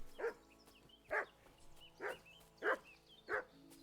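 A wild dog barks five times in an even rhythm in Kingdom Come: Deliverance II, sharp mid-distance barks over a quiet game backdrop.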